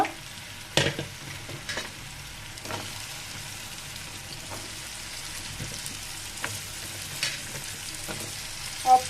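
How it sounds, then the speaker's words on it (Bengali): Masoor lentils and raw green papaya are stirred together in a frying pan of spiced oil, with a steady low sizzle and scattered scraping strokes of the spoon at irregular intervals, close up and without talk. "পেঁপে আর ডাল আমি একসাথে দিয়ে নেড়ে নিচ্ছি ভালো করে নেড়ে নিতে হবে"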